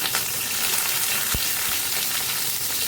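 A bay leaf drops into hot oil in a home kitchen pan, giving a steady broadband sizzle and crackle that holds evenly throughout, with a couple of soft low bumps from the pan and no talking.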